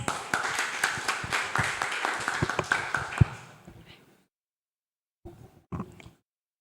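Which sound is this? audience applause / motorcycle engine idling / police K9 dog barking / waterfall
audience applause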